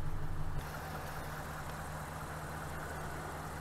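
A Hemi engine running rough with a random multiple-cylinder misfire and in limp-home mode idles steadily and close by, with a continuous low rumble and no talking.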